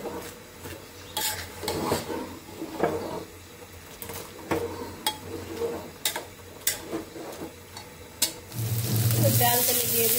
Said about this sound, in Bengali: ডাল তেলে দিয়ে দিচ্ছি।